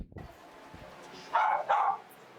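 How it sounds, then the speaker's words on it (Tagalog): Two loud dog barks in quick succession from a dog inside a house, ringing out over low room noise after some faint background talk and movement. "Ingay nung aso talaga."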